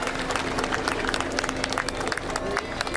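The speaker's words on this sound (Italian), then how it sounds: "Parte l'applauso." Crowd applause greets the arrival of a relic of Saint Anthony in Padua, brought from the Basilica della Salute in Venice, as dense, continuous clapping from a large gathering with a steady hum and scattered crowd noise underneath.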